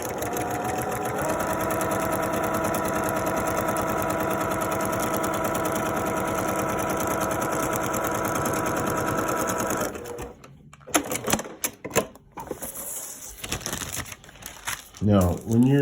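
A sewing machine stitches a paper-pieced quilt block in a long steady whirring run, then stops, followed by paper crinkling and handling noises with a voice briefly talking.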